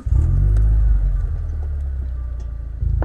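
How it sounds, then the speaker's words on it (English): A car's engine rumbles loudly up close as it is moved forward in a winter setting, a short burst of low revving that settles into a steady idle-like drone before rising again. "Do you want to move the car to the center?"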